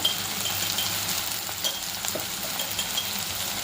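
Onion and tomato sizzle steadily in a hot pan with oil, a continuous close frying hiss with faint stirring scrapes and no talk.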